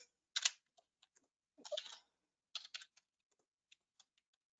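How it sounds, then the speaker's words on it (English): Someone types a search on a computer keyboard: quick, close, crisp bursts of key clicks separated by short pauses, followed by a few isolated taps, with no voices. "So I'm going to type in my search."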